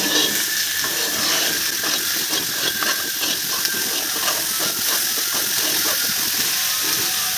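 Vegetables for shukto are stirred in a hot pan, a steady scraping, hissing sizzle with quick rhythmic stirring strokes throughout, close and alone.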